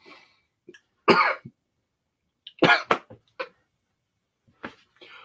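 Several sharp coughs in separate bursts, close and loud, with short silences between them and a throat-clearing sound among them.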